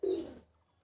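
A caged pigeon gives a single short, close coo that fades quickly into quiet.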